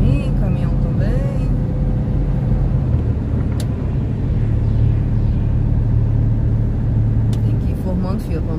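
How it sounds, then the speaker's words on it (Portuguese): Cars and a truck drive along a snowy, icy road, a steady low engine and tire rumble from the vehicle's cabin with a driver talking over it throughout. "Tem alguns carros atrás de mim, caminhão também."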